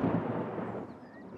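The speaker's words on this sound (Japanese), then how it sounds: "雷の音よ。 この音がしたら嵐が来てたくさん雨が降るの。" Thunder rumbles ahead of a storm in an animated scene, a single deep, broad roll that starts loud and slowly fades away.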